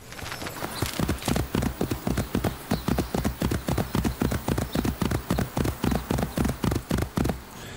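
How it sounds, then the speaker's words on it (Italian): A horse gallops in Assassin's Creed II, a fast, steady clip-clop of hooves repeating rhythmically and loudly throughout, with no talk. "Riprendiamo lo stesso cavallo di prima."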